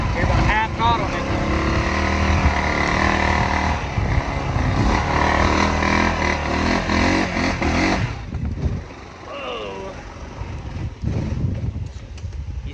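A 2021 Honda Rubicon 520 DCT ATV engine labours up a hill at half throttle, a loud, sustained drone that holds steady and then drops away near the end.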